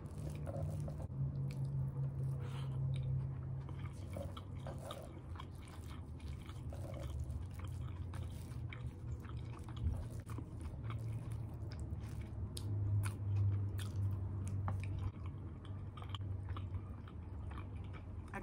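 Close, soft chewing of chicken mango curry and lemon rice, wet squishing and smacking mouth sounds repeating irregularly through a long stretch with no talking.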